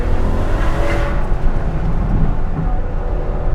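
Ferrari FF V12 with X-pipe and muffler delete rumbling through a partly open window during downshifts, a loud, deep continuous roar with swelling revs, no talking.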